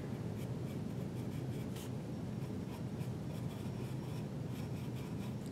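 Pencil drawing an eye shape on paper: soft, close scratching strokes in quick short bursts, quiet and steady with no talking.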